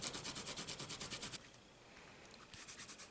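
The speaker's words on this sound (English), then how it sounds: "you can just run your finger back and forth carefully and you'll get rid of that extra adhesive" A finger rubs quickly back and forth over sticker-runner adhesive on a paper greeting card, making a soft rhythmic scratchy swishing, pausing for a second, then resuming.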